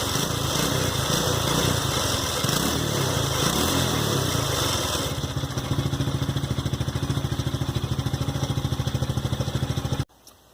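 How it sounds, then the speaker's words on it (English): TaoTao 125cc ATV engine revs loudly and close up, a buzzing high-pitched roar that eases back to a steady rhythmic idle about halfway through before cutting off abruptly near the end. "Alright, now I'm going to rev it."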